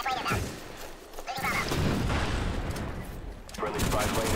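Call of Duty gunfire on the Nuketown map comes in dense, crackling bursts with a grenade blast among them, loud and continuous, while a person talks over the game.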